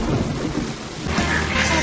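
A heavy thunderstorm with loud, steady rain pouring down and a deep rumble of thunder rolling through, close and dense throughout.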